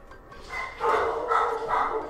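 Dogs in the Kingdom Hearts II video game bark in a quick series of three or four loud yips and barks, close and clear over a quiet game background.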